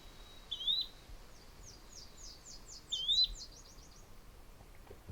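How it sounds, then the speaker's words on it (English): Yellow-bellied flycatcher calling outdoors, two short rising whistled notes a few seconds apart, clear but moderately distant, with a fainter rapid series of chirps from another bird in between over quiet background. "Yellow-bellied flycatcher."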